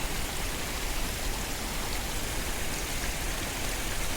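Cold, clear snowmelt from a mountain stream and waterfall on a forest trail rushes in a dense, even hiss, loud and continuous with no voices.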